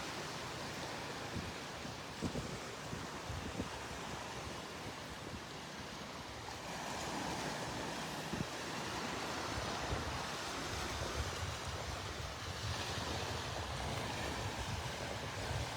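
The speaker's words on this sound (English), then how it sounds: "A few little waves this morning." Small waves washing onto a beach at Delnor-Wiggins Pass State Park, a steady soft wash of surf with gentle swells rising and fading, mixed with light wind noise and no talking.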